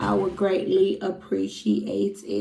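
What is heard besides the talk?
None of the usual background noises is heard.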